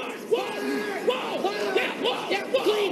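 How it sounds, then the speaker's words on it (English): A crowd roars and cheers after Team USA scores, a dense wall of overlapping yells and whoops that swells in repeated waves, loud and sustained throughout. "And the crowd goes wild"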